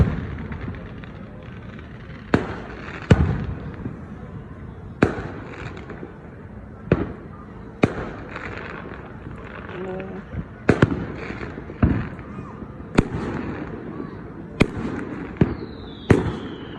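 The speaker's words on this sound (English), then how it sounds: "just like videos of fireworks going off" Fireworks go off in a neighborhood show: a dozen or so sharp booms and cracks at irregular intervals, each ringing out over a low background rumble, with faint crackle between bursts.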